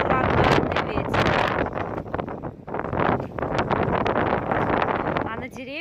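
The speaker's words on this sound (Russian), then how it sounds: "Просто ураганный ветер." Hurricane-force wind buffets a rural village yard, roaring and gusting loudly against the microphone in rough bursts with rustling, while people talk over it.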